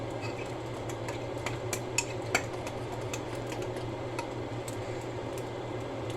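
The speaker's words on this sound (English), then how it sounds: "So I take this out and I stir it one last time." A spoon stirs cream of wheat in a pot, giving soft scraping and a few light metallic clinks against a steady low kitchen hum.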